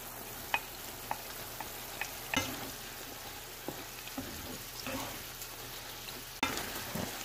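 Shrimp and bell peppers stir-frying in a wok for spicy shrimp, a continuous sizzle broken by sharp scraping clicks and knocks of the spatula against the pan.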